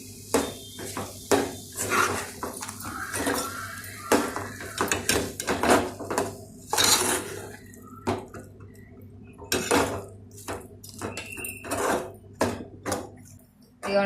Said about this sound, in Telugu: ఇప్పుడైతే ఇందులో ఇగో బెల్లం అయితే ఇది తురుముకొని పెట్టుకున్నా, ఇది కలుపుతాను